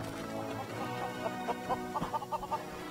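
Chickens in the video game Lego Worlds cluck in a short series of soft, rhythmic clucks, faint and close, over a low steady game background with no talk.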